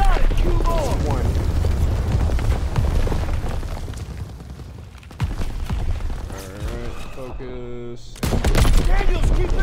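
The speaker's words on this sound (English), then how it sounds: "Daniel, shoot the ammo caches" Ammo caches blowing up under gunfire in Call of Duty WWII, a dense barrage of booms and rapid shots that crackles on, briefly thins, then bursts loud again, with a voice talking over the battle.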